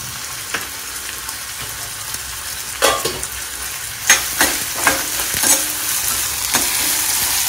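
Frying in oil and ghee for paneer biryani, a soft continuous sizzle broken by scattered scrapes and clinks of a spoon stirring in the pan, with no one talking.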